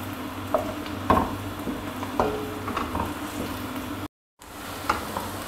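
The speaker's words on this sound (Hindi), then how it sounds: "प्याज और प्याज को हम थोड़ी देर के लिए फ्राई कर लेंगे" Onions fry over medium heat in a pot for mutton stew, giving a soft continuous sizzle with a few utensil knocks and a brief dropout near the end.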